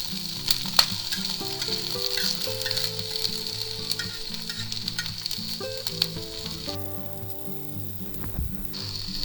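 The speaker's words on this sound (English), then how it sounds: "let's saute that dancing onion" Onions sautéing in a pan while a grilled ham, cheese and tomato sandwich is being made, a bright, steady sizzle and crackle under tuneful background music.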